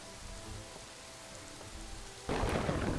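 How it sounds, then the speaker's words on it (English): Steady rain hisses in the city-building game Kingdoms and Castles, then abruptly swells into a heavy downpour with a deeper rumble, with no voices. "a little bit of heavy rain, which is never good for your fields"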